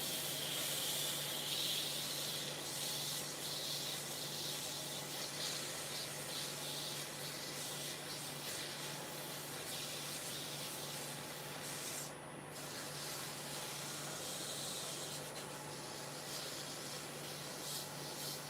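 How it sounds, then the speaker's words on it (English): Continuous rubbing hiss of sandpaper against a spindle on a wood lathe, steady and close with a constant motor hum beneath, no voices. "Make sure I sand the spindle in the middle."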